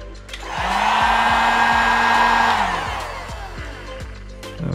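Heat gun warming a wheel decal on a Toyota Supra MK5: a loud, close blower whir with a steady whine spins up, holds for a couple of seconds, then winds down, with no speech.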